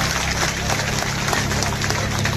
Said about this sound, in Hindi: उनके लिए जोरदार तालियां